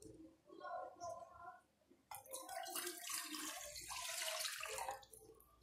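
A cup of water is poured into a cooking pot for rice pudding. A voice speaks briefly first, then a steady, close splashing pour runs for about three seconds.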